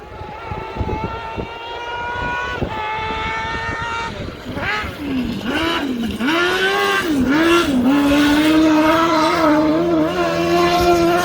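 Semog X-Cart crosskart racing at the Ben Nevis Station Golden 1200, its engine rising from a distant whine to a loud, close, high-pitched rev as it sweeps past, climbing through the gears.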